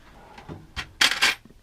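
Allen keys rattle inside a cluttered workshop drawer, giving a short close metallic jangle of a few quick clinks, loudest toward the end.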